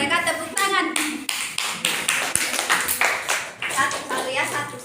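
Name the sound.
clapping hands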